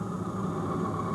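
A car engine running steadily in a TV commercial, said to have a cheap $40 problem, giving a continuous even drone with no breaks across the short stretch.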